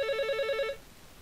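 A telephone bell rings in one rapid trilling burst, close and clear, then cuts off into quiet room tone.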